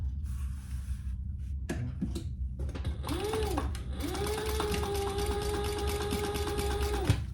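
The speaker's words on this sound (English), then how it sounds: "I need to top stitch this first" Top stitching on a wristlet: a sewing machine starts in short bursts, then runs a sustained whirring hum with fast rhythmic needle clatter, loud and near, alone without speech.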